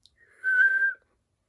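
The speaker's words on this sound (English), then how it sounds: "Most people whistle," A single sustained whistled note from one person, steady in pitch and held for about half a second, close and clear in an otherwise quiet space.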